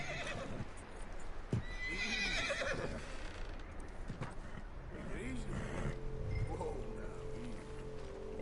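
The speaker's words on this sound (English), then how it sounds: "I think this is actually like Sadie's husband horse right here" A horse in Red Dead Redemption 2 whinnies loudly twice amid clip-clopping hooves, with ambient game noise throughout.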